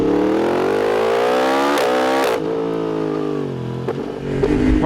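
A 2024 Yamaha R1 motorcycle engine revs up to a high, rising whine, drops back and settles into a steady idle-like drone before a final blip, loud and close.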